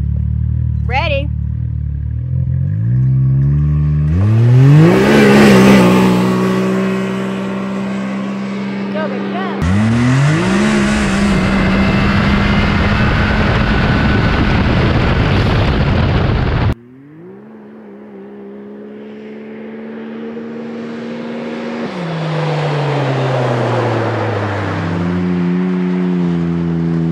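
A 2020 Can-Am X3 RR side-by-side with an air box swap accelerates hard from 0 to 60 in four-wheel drive, its engine note climbing through several gear shifts, loud and close inside the cabin, with voices talking over it.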